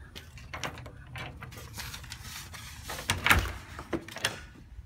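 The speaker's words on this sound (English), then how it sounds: "We're going to go into the front door." A house's front door is opened quietly at a renovated three-bedroom home for sale in Hammond, Louisiana. Soft handling thumps and a clunk of the latch come through faint room noise.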